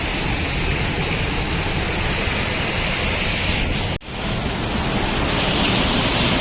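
Hogenakkal waterfall roars up close as a steady, loud broadband rush of falling water, unbroken apart from a brief dip midway, with no voices.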